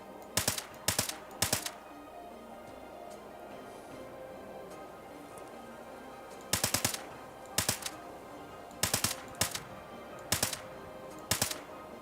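Gunshots in Fallout 76, sharp cracks fired in short groups of three, a cluster at the start and several more bursts later, fairly distant over a quiet background.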